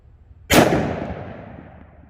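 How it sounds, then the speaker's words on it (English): A single loud gunshot from an XDM pistol firing 10mm ammunition, shot offhand on a range, with a sharp crack followed by a long decaying echo. "I'm gonna be shooting the XDM first."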